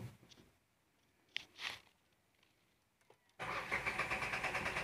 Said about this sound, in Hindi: अभी तो गाड़ी बिल्कुल ही स्टार्ट नहीं हो रही है।